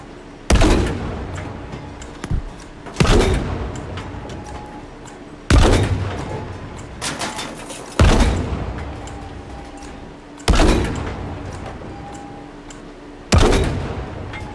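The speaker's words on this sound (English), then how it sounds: "Got a lot of gunfire at Charlie." Battlefield V battle sounds: six heavy gunshot and artillery booms land a couple of seconds apart, each sharp and loud, with a long rolling decay over steady background combat noise.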